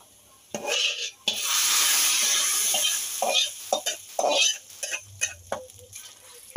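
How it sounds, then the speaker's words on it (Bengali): Fried garlic and dried red chili in hot oil are poured as a tempering over khichuri, giving a sudden loud, sustained sizzle that fades into scattered stirring scrapes and clinks against the pot. "এখন আমি এখানে রসুন আর শুকনা মরিচ একটু ভেজে নিয়েছি। এখন আমি বাগার দিব।"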